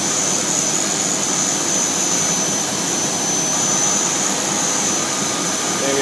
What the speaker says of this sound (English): I have no idea if you can hear me over the volume of the machine.